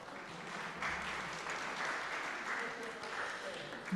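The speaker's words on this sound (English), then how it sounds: "we can give a round of applause." A round of applause from a small group, a dense patter of clapping rising and lingering with faint voices mixed in, indoors and fairly soft.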